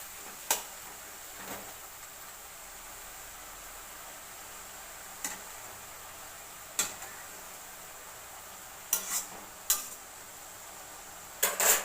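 Red amaranth greens being stirred in a frying pan, with sparse sharp metallic taps and clinks of a utensil against the pan at irregular intervals over a faint steady hiss.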